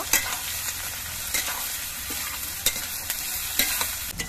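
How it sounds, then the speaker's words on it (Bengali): Onions fry in a pan for chilli chicken, a dense, close sizzle with a few sharp spatula knocks and stirring scrapes scattered through it. "পেঁয়াজগুলো কিছুক্ষণ ভেজে নেব।"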